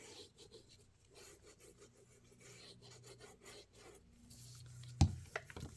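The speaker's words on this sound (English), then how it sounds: "And burnish it real well." Glued paper in a small 4 by 5 inch mini album burnished with a tool, faint repeated rubbing strokes in a steady rhythm, ending in a couple of sharp taps, no talk.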